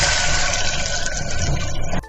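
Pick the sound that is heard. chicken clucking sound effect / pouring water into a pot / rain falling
pouring water into a pot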